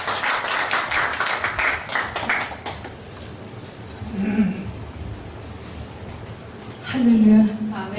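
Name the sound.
applause welcoming the singer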